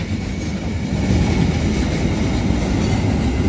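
Train rolling past on a railway line at an unguarded crossing, a close, loud, continuous rumble with rattling wheels throughout.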